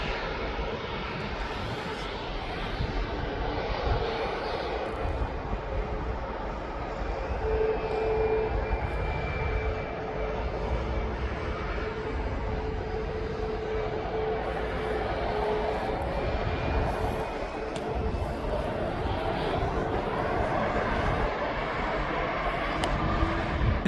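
A jet airliner bound for Alicante taxiing and departing from East Midlands airport, its engines a sustained, fairly loud roar with a faint whine, building and holding steadily throughout, no voices over it.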